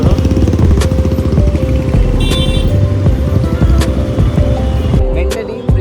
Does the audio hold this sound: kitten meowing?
no